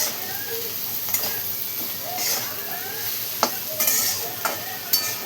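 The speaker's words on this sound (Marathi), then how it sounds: "मीठ टाकल्याच्या नंतर पुन्हा आपण एकदा छान असं मिक्स करून घेऊया." Bitter gourd chutney is stirred in a pan, a low sizzling hiss broken by several sharp scrapes and taps of the spoon against the pan, close by and without speech.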